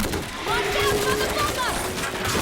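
Automatic gunfire from World War Z, set in Marseille, rattling continuously at close range with shot tones and in-game sounds layered over a busy battle mix.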